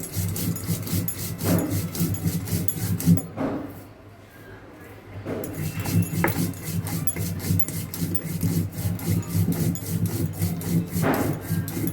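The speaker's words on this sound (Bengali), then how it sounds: "কালো জিরেটা লঙ্কাটা বেটে নেব।" Green chilli and black cumin are ground with mustard oil and salt on a grinding stone, with repeated rhythmic rubbing and scraping strokes and a brief pause midway, while someone talks over the work.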